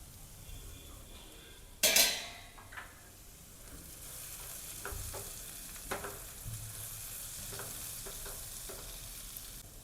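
Bhindi masala of okra cooks in a pan, starting with a sharp clank as a lid is set on, then a soft steady sizzle and faint crackling under cover, quiet and close, with no talking.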